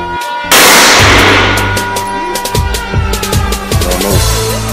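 Glock 17 Gen 4 and Glock 21 Gen 4 pistols fire at a shooting range, one sharp loud shot with a ringing tail followed by a rapid run of close, evenly spaced shots.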